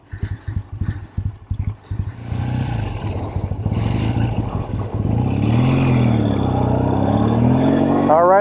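A 1964 Triumph T100 motorcycle engine turns over with a few sharp pops, then settles into a loud, steady running idle that rises slightly toward the end, with a voice briefly audible.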